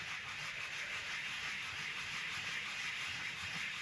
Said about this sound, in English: I'm going to move over and use the sanding block